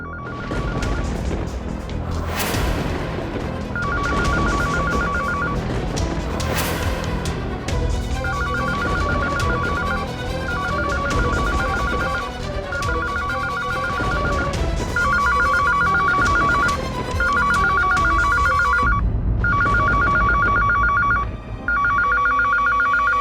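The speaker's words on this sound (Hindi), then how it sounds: "ये कौन सा फोन की आवाज है?" In a TV drama scene, an electronic phone ringtone trills in repeated bursts over loud, busy background sound, continuing for a long stretch.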